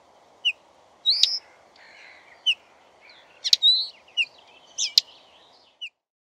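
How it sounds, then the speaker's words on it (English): A linnet sings alone in short bursts of bright, high twittering chirps and trills, spaced irregularly over a soft steady background hiss. "Linnet."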